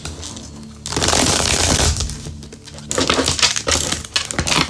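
Tarot cards are shuffled by hand in bursts of riffling and slapping, with two dense rustling runs separated by a short pause, close and fairly loud with no talking.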